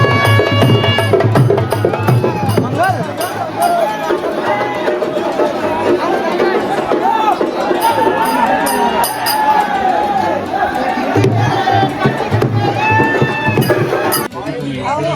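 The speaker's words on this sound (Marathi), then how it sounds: "गर्दी" A dense crowd packs the Mahalakshmi temple in Kolhapur, a loud, continuous hubbub of many overlapping voices chattering and calling close by, with no pause through the whole stretch.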